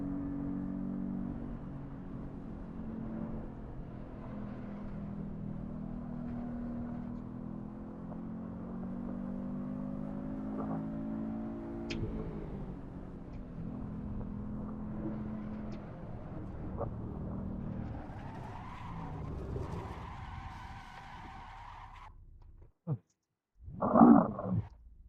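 A race car lapping Sepang in Assetto Corsa, engine droning and rising in pitch through gears, then revving harder near the end with a brief cut and sharp high burst.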